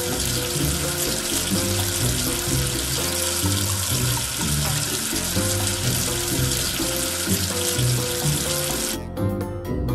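Running tap water rinses soap off a dirty letter in a Baby Panda children's cartoon, a steady broadband wash that stays loud for the full stretch over a bed of music.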